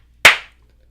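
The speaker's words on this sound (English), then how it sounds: "I want to clap again" A single sharp hand clap, close and loud, alone in quiet with a short decaying tail.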